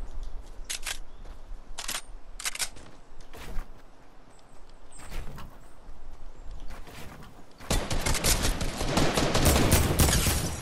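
Sniper rifle gunfire in the video game Fortnite: several sharp, separate shots ring out in the first half, followed by denser, louder bursts of gunfire and game noise toward the end.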